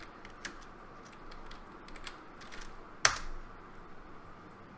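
Soft, sparse clicking of keys on a computer keyboard, with one sharper, louder keystroke near the end, in a quiet room.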